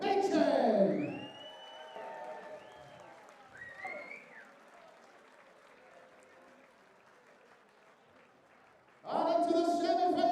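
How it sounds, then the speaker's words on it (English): Applause from a live crowd at the WDF 2024 World Darts Championship, honouring a darts player: loud clapping fades to a lower murmur, then a fresh burst of applause swells back up near the end. "please keep your applause going for Peter Machin"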